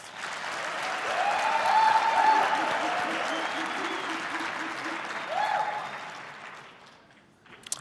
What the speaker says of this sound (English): acknowledge all the work that our teams have done by giving them a big round of applause